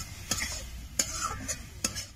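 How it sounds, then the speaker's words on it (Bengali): Chicken is stirred with Kashmiri red chilli powder and coriander powder in a pan with onions, a spatula scraping the pan in a few sharp strokes over a soft sizzle. "এবার ভালো করে কষে নেব।"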